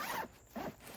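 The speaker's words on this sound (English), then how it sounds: "all the pockets seem to have lockable zippers" Two quick zipper pulls on a pocket of a fabric rifle bag, close and soft, with a short pause between them.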